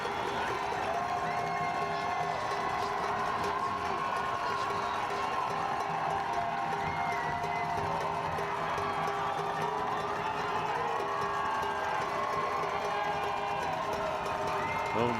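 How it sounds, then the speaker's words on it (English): A hometown high school football crowd at a playoff game cheers and roars in a steady, dense wash of voices and whoops, with a game announcer talking over the noise. "Hometown crowd getting into this one defensively."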